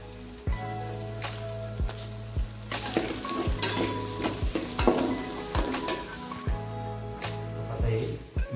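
Chopped onion with turmeric fries in a hot pan on a tava, a steady soft sizzle broken by repeated sharp clinks and scrapes of a spoon stirring.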